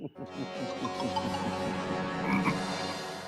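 A frog croaks in a steady, rapid pulsing rhythm, close and continuous, with a faint background hum.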